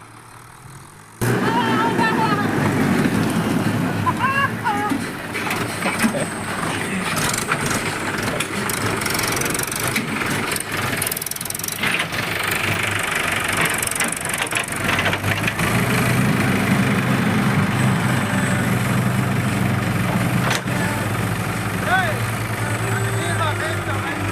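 A truck engine idles steadily while the truck is loaded with soil, a constant low rumble that continues through the clip with people talking over it.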